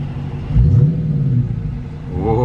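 A 2022 Dodge Challenger R/T with its 5.7-liter V8 rumbles close by, a deep burbling idle that swells into a brief rev and then settles back to a steady throb.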